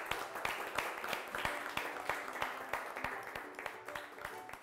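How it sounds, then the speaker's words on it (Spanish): Audience applause after a televised national address, heard as rhythmic, distinct claps at a steady beat, moderately faint, with some people clapping in unison. "Dense un aplauso."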